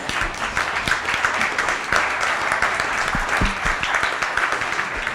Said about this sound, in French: on va les applaudir parce qu'ils diffusent